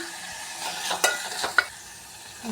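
Onion and tomato soften in hot oil with salt and turmeric as a spoon stirs the pan: a quiet, low sizzle broken by two or three brief scraping strokes, with no voices.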